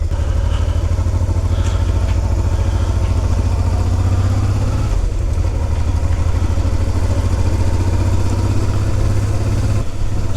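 A motorcycle engine idles steadily up close with a dense low rumble and mechanical clatter, picked up on a road trip from Laos into China after the bike was collected, running continuously with no talking.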